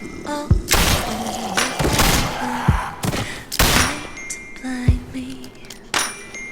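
Gunshots in The Walking Dead Season 3 video game ring out as several separate loud, sharp reports spaced across the stretch, with thuds and faint background sounds between them.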